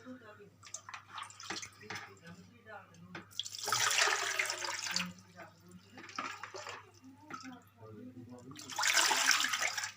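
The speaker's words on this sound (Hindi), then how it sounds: "इसमें हम पानी ऐड करेंगे।" Water pours into a pot of marinated chicken in two splashy bursts separated by quieter stretches, close by, with a voice speaking between them.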